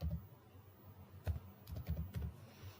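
Java code being typed on a computer keyboard: faint, irregular clusters of soft key taps, near and quiet, with no talk over them.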